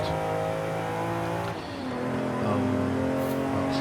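A 1962 Ferrari 250 GT's engine in a racing video game hums steadily with clear harmonic tones, briefly dipping as the revs drop before climbing again to a sustained, close drone.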